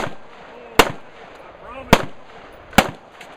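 Three sharp, loud rifle shots from a Spikes Tactical ST-15 on a shooting course, spaced roughly a second apart, each with a quick decay and faint background noise between them.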